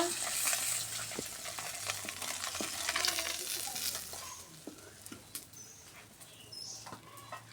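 Bata fish frying in hot oil in a home kitchen, a soft continuous sizzle with occasional crackles and spatula clinks, fairly quiet and close.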